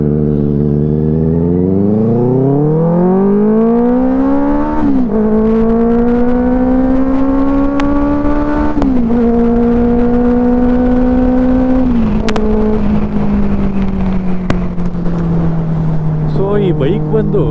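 A motorcycle engine of 84 bhp and 54 Nm torque revs up, rising in pitch and holding at high RPM with brief dips between throttle blips, loud and close for the whole stretch.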